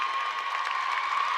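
Crowd applause mixed with cheering in a high school basketball gym during a Class 2 state tournament game, South Pemiscot Bulldogs vs Salisbury Panthers, as a fouled-out player heads to the sideline. A steady wash of distant clapping and crowd noise.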